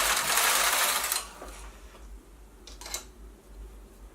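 A Knitmaster PS150 knitting machine running, a loud broadband sweep of the carriage for about a second, then quieter mechanical clicks and a low hum, no talking.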